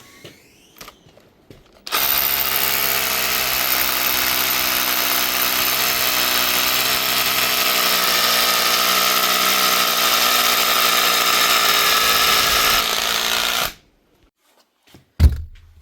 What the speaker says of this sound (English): You can hear she does hammering, but maybe it's not strong.